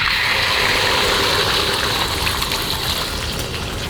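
Beaten egg hitting hot oil in a pan for a Thai omelette, giving a loud, steady, broad sizzling hiss that holds for several seconds and eases slightly toward the end, with no talk over it.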